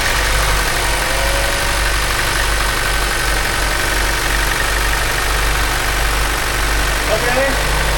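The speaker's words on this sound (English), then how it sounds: "Beginning engine starting sequence now." A Chevy Cruze 1.4 engine with a blown seal from a faulty check valve runs at a steady, loud idle throughout, a continuous low rumble without pauses.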